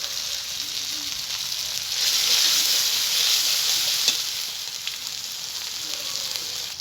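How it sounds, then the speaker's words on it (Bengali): Ground cumin sizzles in hot oil in a pan while potol pasinda is being made, a steady bright frying hiss that swells louder for a few seconds in the middle, with no voices. "দেখুন, হাফ চামচ মতো জিরে গুঁড়ো দিয়ে দিচ্ছি।"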